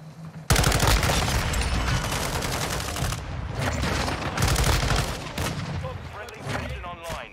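Rapid automatic fire from an M13C rifle in Modern Warfare 2, loud sustained bursts that crackle continuously for several seconds with only short gaps.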